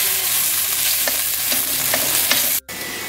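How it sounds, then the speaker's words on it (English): Vegetables with baby corn fry in a hot pan, a continuous close sizzle with several quick stirring scrapes and a brief break near the end, no talking. "Stir that all around"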